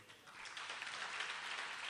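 Audience applause for students at a 2019 elocution competition in Ichalkaranji, a soft, continuous clapping from a crowd that swells slightly over two seconds.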